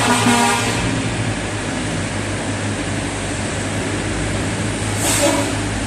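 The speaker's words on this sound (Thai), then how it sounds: "รถบรรทุก ทุเรียนจากประเทศไทย เข้ามาที่สายแดนบ่อเต็น" Trucks hauling durian from Thailand arrive at the Boten border crossing in Laos, a loud, steady engine drone with a horn honk near the start and another brief horn blast later, with no talking.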